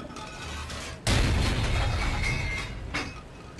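A tank cannon on a Panzer III fires in the IL-2 Tank Crew game: one sharp, heavy boom hits after a second of quiet engine rumble, then a long rolling echo decays over the next few seconds, with a smaller thump near the end.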